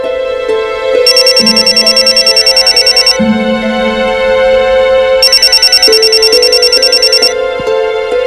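A loud electronic telephone ringtone sounds in two repeated bursts of rapid trilling rings, with steady tones and music-like background between them.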